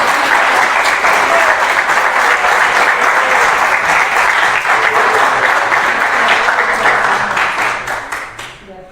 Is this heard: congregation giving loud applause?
yes